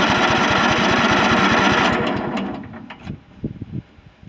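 A small engine on a Sabre John Deere lawn tractor runs with a fast rhythmic chug for about two seconds, then cuts off, leaving scattered knocks and handling noises close by.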